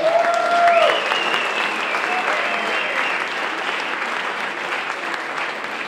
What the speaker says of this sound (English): One more round of applause for the Capitol Steps